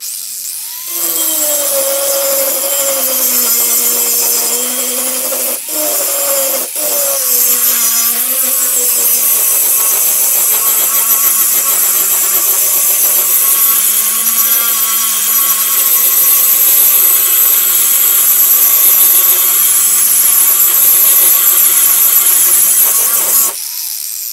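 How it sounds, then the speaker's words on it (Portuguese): An angle grinder grinds metal with a loud, steady, high-pitched whine that holds for over twenty seconds, a few brief dips marking changes in pressure, and no talk over it. "Vamos esmerilhar isso."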